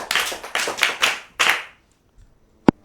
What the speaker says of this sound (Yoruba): Ẹ pàtẹ́wọ́ fún àwọn ọmọdé wa